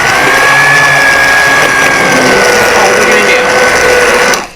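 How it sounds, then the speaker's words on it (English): Immersion blender with blades at the bottom whirring steadily through cooked refried beans in an Instant Pot, loud and close for several seconds before cutting off, with a voice speaking briefly over it. "it's an immersion blender. It has blades at the bottom."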